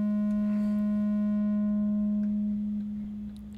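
An ARP 2600 synthesizer holds a steady triangle-wave tone while its filter gradually rolls off the upper harmonics, leaving the pitch dulled and softer toward the end; loud, close and alone.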